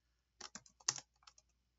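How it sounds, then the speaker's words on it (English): Keystrokes on a computer keyboard while typing a playlist name in DJ software, a short burst of separate clicks and taps at close range, with no talking. "Type in"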